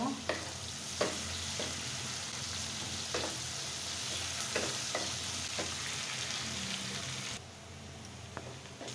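Onions frying in a pan until brown give a steady, close sizzle with soft crackles throughout and occasional clicks of stirring; there is no talking.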